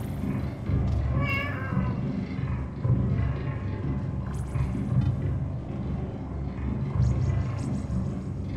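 In the video game Animal Well, a single distinct cat meow sounds early on over a continuous low rumbling game ambience, followed by quieter, softer cat-like sounds later.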